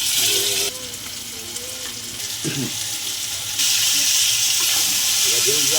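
Water lilies with salt, chili powder and turmeric fry in a pan, giving a loud, steady sizzle with stirring strokes and a brief voice partway through.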